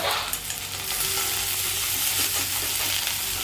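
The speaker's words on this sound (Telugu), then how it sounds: "కలుపుతూ ఉండాలి, లేకపోతే బాగా మాడంటితే బాగోదు" Semiya (vermicelli) frying in a pan for upma gives a continuous close sizzle while being stirred, with soft scraping from the utensil and no talking.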